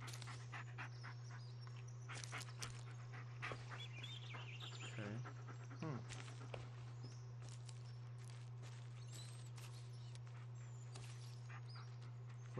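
Dog panting in the Blair Witch game: quick, faint, breathy pants come in short bursts over a steady low hum, with a few brief whimper-like sounds partway through.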